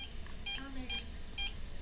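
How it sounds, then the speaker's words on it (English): An electronic device beeps three times at an even pace, each beep short, high and clear above a faint background hum. "it's beeping."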